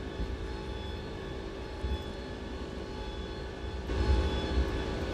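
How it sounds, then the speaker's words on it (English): Aircraft flaps retracting in Microsoft Flight Simulator, a steady engine drone with a mechanical whir that swells and grows louder toward the end, no voices over it. "Give me that flap sound."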